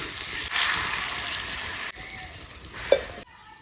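Ingredients for Bengali muri ghonto frying together in a pan, a steady moderate sizzle with faint stirring scrapes, a brief clink near the end before the sound cuts off abruptly.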